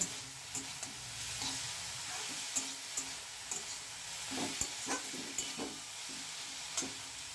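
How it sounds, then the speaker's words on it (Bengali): Drumstick flowers fry in a pan with a steady sizzle, broken by repeated clinks and scrapes of stirring, close and continuous with no talk. "আমার এই সজনে ফুলটা প্রায় ভাজা হয়ে এসছে"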